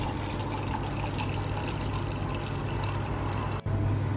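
Wine pours into a glass filled with frozen fruit, a soft, continuous gurgling trickle close by that breaks briefly near the end and then resumes.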